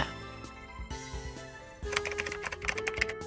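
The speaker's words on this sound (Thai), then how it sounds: "ดังนั้น เราจะพิมพ์ไปเลยว่า" A comment being typed on a keyboard, heard as quiet, irregular key clicks that become a quicker, denser run of taps partway through, close by, over faint background music.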